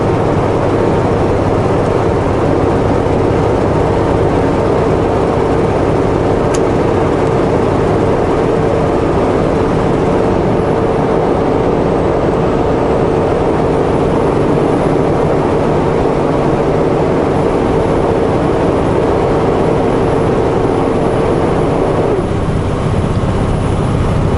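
A truck with a light load and a single trailer descends a mountain road, its heavy engine giving a continuous low, steady rumble with road noise that carries on unbroken.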